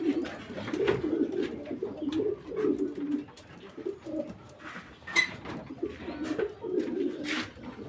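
Breeding pigeons cooing in a loft, repeated low throaty coos in overlapping bursts from several nearby birds, with occasional higher wing flutters or scuffs and no speech.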